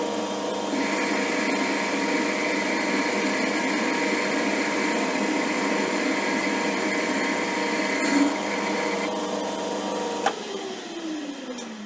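Metal lathe turning a 1 mm cut on a steel spacer for a Vevor shop press, a steady close machine drone with a high whine that stops near the end, leaving a lower hum.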